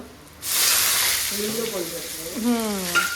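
Cloves, cinnamon, onion, curry leaves and asafoetida hit hot oil for a tempering, giving a loud sudden sizzle that swells after a quiet start, with a voice talking over the frying toward the end.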